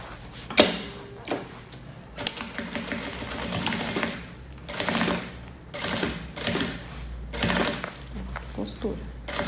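A sewing machine stitches rubberized nylon fabric for a double-sided tote bag in several short, fast bursts separated by pauses and handling rustles, with a voice speaking between runs.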